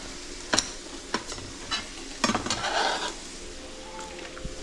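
Pork stirred in a sizzling pan for lettuce wraps gives a steady hot sizzle under a few sharp utensil scrapes and clinks against the pan, close and moderately loud, with no talking.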